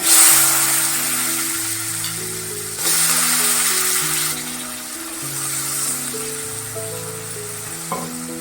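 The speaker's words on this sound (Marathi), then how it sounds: "थोडासा परतायचा आहे बटाटा" Potato pieces sauté in a hot tempering with turmeric and asafoetida, a steady frying hiss that swells and eases, with soft background music playing underneath.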